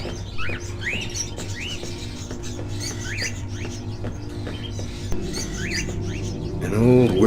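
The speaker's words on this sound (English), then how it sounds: "Are those crows in the cages?" Caged crows in an old cabin in the video game Fahrenheit: Indigo Prophecy give repeated short rising calls over a steady low room hum, with a louder burst near the end.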